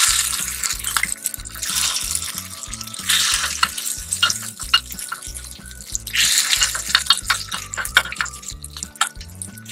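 Batter frying in hot oil in a pan, a loud, close sizzle with bursts of crackle and spatter that rise and fall as more batter goes in, along with faint background music.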